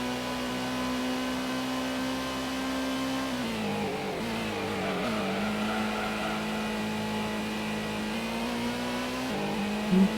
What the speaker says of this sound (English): But accelerating hard, up to the line now for victory number 2 of the championship.